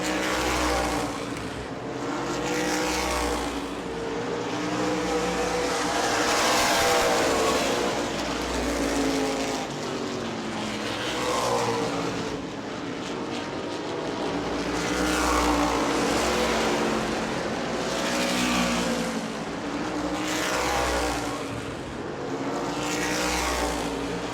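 Stock race cars at New Smyrna Speedway roar past in a pack, engines rising and falling in repeated loud waves as they lap the track, constant and close.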